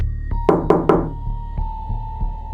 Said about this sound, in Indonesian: Dan tadi malam, gue dengar 3 ketukan.